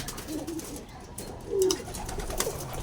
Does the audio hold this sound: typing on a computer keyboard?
no